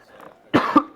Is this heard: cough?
yes